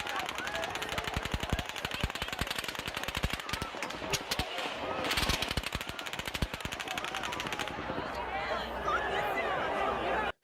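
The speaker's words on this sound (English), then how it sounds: "There is low, further traveling sounds of shots fired." Rapid bursts of automatic gunfire from the Las Vegas shooting, distant and echoing, repeating in dense volleys throughout amid crowd chatter and commotion.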